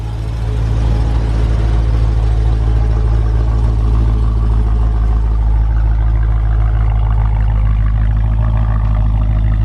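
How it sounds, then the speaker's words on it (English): A red 2019 Dodge Challenger Widebody Scat Pack runs on its stock exhaust, a loud, steady, deep engine drone with strong low rumble that holds constant and close throughout, no voices. "And that exhaust sounded really good for being stock"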